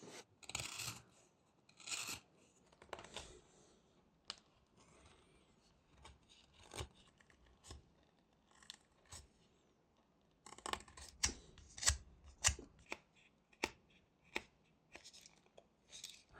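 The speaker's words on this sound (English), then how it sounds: "So we make a bunch of cuts like these, and then we cut the chips off like that." Wood chips are cut off a small kitten carving with a whittling knife, producing short, crisp snipping and slicing clicks in irregular bursts. The sounds are quiet and close, alone without talk, and cluster more densely toward the end.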